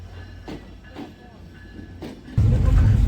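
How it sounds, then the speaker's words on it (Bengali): The Benapole Express pulls into Kotchandpur railway station, its low rumble growing suddenly loud and close in the last second, after a few faint knocks and brief noises on the platform. "নির্ধারিত সময়ে 6 মিনিট দেরিতে বেনাপোল এক্সপ্রেস কোটচাঁদপুর রেল স্টেশনে ঢুকে পড়ে।"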